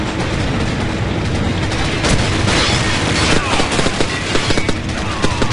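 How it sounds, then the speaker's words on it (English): A Call of Duty 4: Modern Warfare flashbang grenade goes off amid a dense, loud wash of gunfire and blasts, with sharp cracks standing out from the continuous roar. "Flashbang out."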